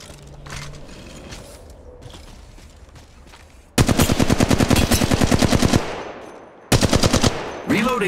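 Rapid bursts of automatic enemy gunfire ring out in the Apex Legends Mobile battle game, first distant and faint, then two loud, close sustained volleys with a brief pause between them.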